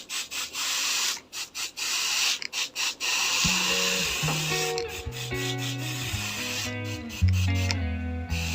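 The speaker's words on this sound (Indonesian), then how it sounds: "Oke, dan sekarang kita semprotkan teman-teman ya." A hand sprayer misting liquid over dry maggot-rearing media, heard as repeated close hissing bursts with short gaps between them, which later continue under steady background music.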